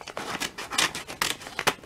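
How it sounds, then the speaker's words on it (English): Plastic scissors snipping through paper in a short run of quick, close crisp cuts, about six or seven irregular snips with no talking. "I'm just using these plastic scissors because I couldn't find the normal ones"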